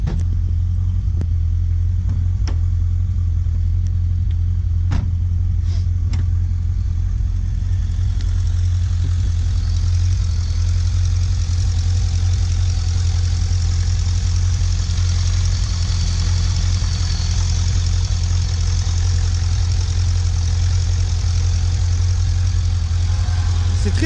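A Corvette engine idles with a steady low rumble, loud and continuous throughout, with a few sharp clicks early on and no talk.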